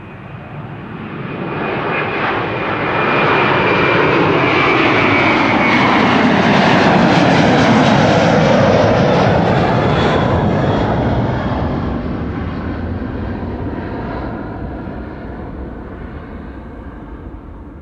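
An airliner takes off from Schiphol's Kaagbaan runway 24 at Amsterdam, a broad jet roar that swells over several seconds, peaks loud and close, then slowly fades as the aircraft climbs away.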